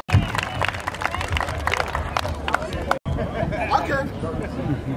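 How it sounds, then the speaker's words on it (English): Crowd applause and clapping at a community gathering, a dense wash of claps and cheering voices that runs steadily for several seconds, briefly cutting out midway before resuming with murmuring chatter. "let's give a round of applause for Joe and all he needs for us."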